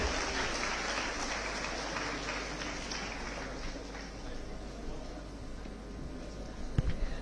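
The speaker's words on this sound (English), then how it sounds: "A huge round of applause." An audience at an annual event in a convention hall applauds, a steady, broad wash of clapping that continues throughout with a louder accent near the end.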